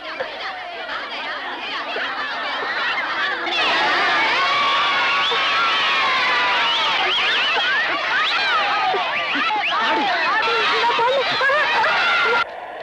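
A noisy audience crowd in a hall, with loud overlapping shouting, cheering and chatter that swells after a few seconds and stays dense and continuous throughout.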